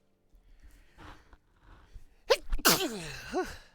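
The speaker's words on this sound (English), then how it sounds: "Sneezing" A single loud, sharp sneeze in a Final Fantasy XIV game, preceded by quiet breathy inhales and followed by a drawn-out vocal sigh.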